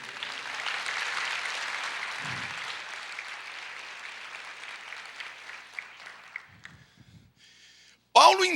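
A crowd applauds steadily for several seconds, a broad wash of clapping that fades out, followed by a brief voice and a sharp sound at the end.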